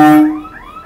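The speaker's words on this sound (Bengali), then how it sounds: "ট্রেন আসছে বলে কিন্তু এই যে এই অ্যালার্মটা বাজাচ্ছে" An electronic alarm warns of an approaching train at a river cruise jetty in Kolkata, a loud tone that drops into a wavering, siren-like warble, heard close and alone for under a second.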